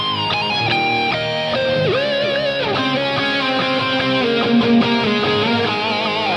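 A distorted electric guitar plays a solo, with bends and vibrato over a full band backing. It is loud and steady throughout, with no talking.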